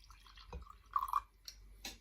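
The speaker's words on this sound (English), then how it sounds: "Let me pour some into a separate glass just so that we can get a clearer visual." Homemade apple vinegar pours into a glass in a few faint trickles and drips, with a brief brighter splash in the middle, quiet and close.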